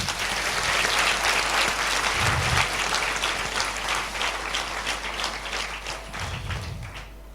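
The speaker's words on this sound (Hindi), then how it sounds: "ताली बजाएंगे।" Congregation applause during a Sunday church service message, a steady patter of many hands clapping at moderate distance with a low hum beneath and occasional thumps.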